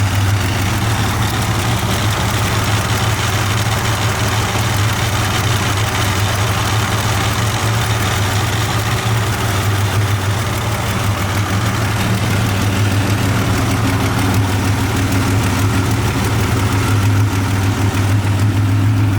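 A 1987 Buick Grand National turbocharged V6 idles steadily with its exhaust cutouts closed and turbo mufflers fitted, a constant low rumble with a deep hum throughout, close and loud with no talking.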